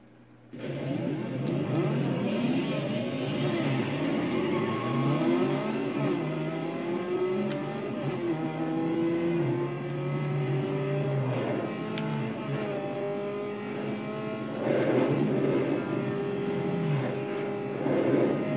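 A car engine in Need For Speed Underground 2 drones and revs steadily, pitch rising and falling as the car accelerates and shifts, loud and close with no talking.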